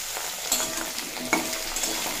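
Papaya and mixed vegetables frying in a pan, giving a steady close sizzle broken by a couple of scraping stirs.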